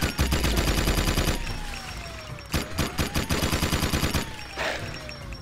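Rapid, sustained minigun fire from the video game Jak 2, a dense rattling stream of shots that pauses briefly midway, then resumes in bursts, loud and up front with no talking.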